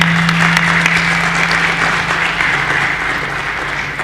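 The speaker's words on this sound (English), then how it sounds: "So, a round of applause" Steady, dense applause from a large audience at an IIT Delhi panel on electric vehicles, loud and unbroken for several seconds with a slight fade toward the end.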